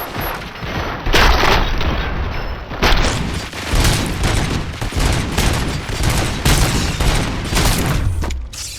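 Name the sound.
gunfire in the video game RoboCop Rogue City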